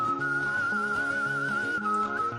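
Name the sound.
person whistling in played video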